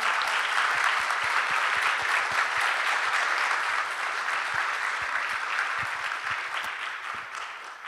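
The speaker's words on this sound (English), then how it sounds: "Could we give them another warm round of applause?" A large audience claps for two guest speakers at a retreat, the dense, steady applause filling the room and fading slightly toward the end.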